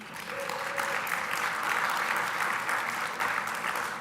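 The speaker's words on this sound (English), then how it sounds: "Keep clapping" Conference audience applauding sponsors at an internet registry meeting, a steady wash of many hands clapping, moderately distant and even for four seconds, no voices over it.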